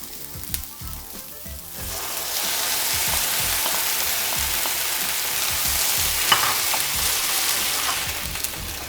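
Tomatoes hit a pan of deeply browned, caramelized onions for shakshuka. After a soft first second comes a loud, steady broadband sizzle and frying hiss, with occasional stirring clinks and scrapes throughout.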